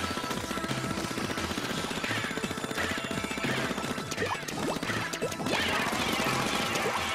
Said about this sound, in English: Oh no, not the suction bombs.